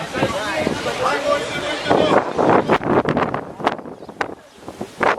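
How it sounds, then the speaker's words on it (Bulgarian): Strong wind buffets a microphone outdoors in Malta, producing rough, gusty rumbling throughout while people talk over it. "Много духа вятър обаче"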